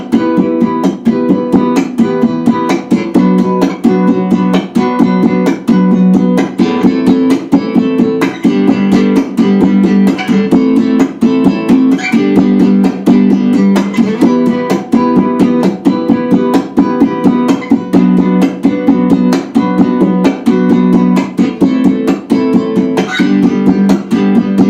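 A percussive guitar pattern played with a straight rock feel, steady and even, with fingered strums and muted hits repeating at a regular pulse for over twenty seconds, close and loud with no talk.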